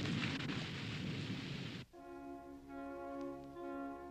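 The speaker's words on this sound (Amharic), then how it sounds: "ወዲያውኑ የዝናብ ደመና ሰማዩን ሞላውና ሕይወት ሰጪ የሆነው ዝናብ የእስራኤልን ግዛት በሙሉ" A heavy rainstorm with thunder over the land of Israel: a dense, steady roar of rain with low rumbling that fills the first two seconds, then cuts off abruptly and gives way to soft sustained musical tones.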